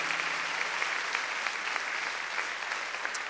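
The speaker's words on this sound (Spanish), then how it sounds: "Den un aplauso a nuestro Dios por quien Él es en nuestras vidas." A church congregation at a Spanish-language worship service claps steadily, a dense, even wash of many hands sustained from start to finish with no pauses.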